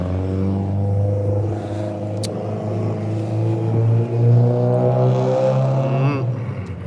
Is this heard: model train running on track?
no